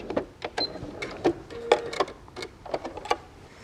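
A sewing machine stitches a fabric cat purse in short bursts with gaps and clicks between them, close and fairly loud, with no voices.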